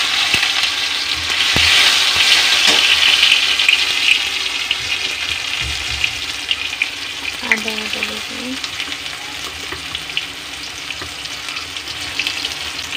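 Tomato drops into hot oil with cinnamon, cardamom and bay leaf, a loud close sizzle that settles into a steady frying hiss with a few light stirring clinks.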